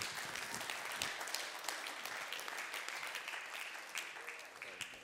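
Applause from an audience honoring a winning team, a dense steady wash of many hands clapping at moderate volume, with scattered sharper claps and faint voices underneath.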